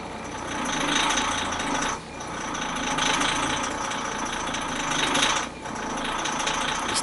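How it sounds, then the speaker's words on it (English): A Hyundai car in gear gives off a steady, loud mechanical rattle with a clattering, labored engine drone that dips briefly twice, with no one talking over it. "This terrible rattling sound, I don't know what that's all about."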